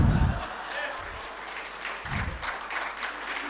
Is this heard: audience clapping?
yes